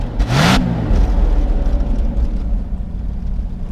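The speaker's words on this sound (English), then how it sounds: "Go ahead and rev it up a little bit." A 1976 Jaguar XJ12 with a V12 engine and dual exhaust, close by, gives one quick rising rev that falls back to a steady, rumbling idle.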